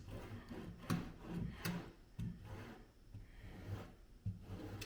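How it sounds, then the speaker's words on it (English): Rasp-like file shaving semi-cured body filler off a Mustang quarter panel, faint repeated scraping strokes in an uneven rhythm, close and quiet. "you use this to get a lot of the excess body filler off to get your rough shape before you start sanding it"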